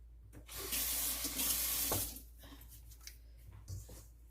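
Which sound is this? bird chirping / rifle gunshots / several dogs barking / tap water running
tap water running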